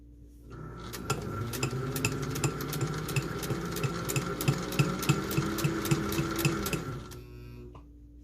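Sewing machine stitching a fabric face mask seam runs in one steady, fast rhythmic burst of several seconds, close and alone, starting up and stopping cleanly.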